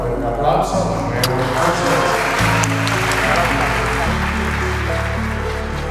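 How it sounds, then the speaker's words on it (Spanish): Wedding guests applaud at a ceremony at Hacienda Campo Rico, a broad wash of clapping under sustained music and a voice speaking throughout. "que nos va a dar un fuerte aplauso"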